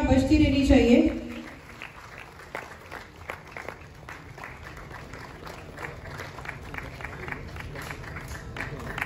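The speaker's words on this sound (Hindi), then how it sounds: "जोरदार तालियां बजती रहनी चाहिए।" At an International Human Rights Day gathering, a brief spoken line gives way to audience applause, with many hands clapping at moderate volume in a steady, slightly uneven patter that continues to the end.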